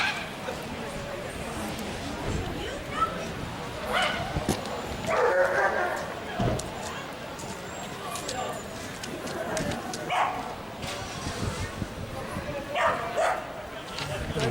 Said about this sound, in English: Dog fights going on today.